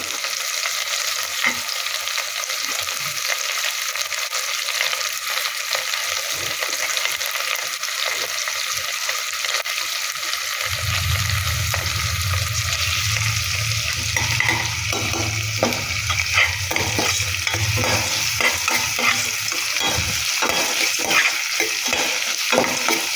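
Oil sizzles and crackles steadily as ragi vermicelli is sautéed with onion and curry leaves in a pan, with a louder low frying roar kicking in partway through and intermittent scraping stirs, no talk.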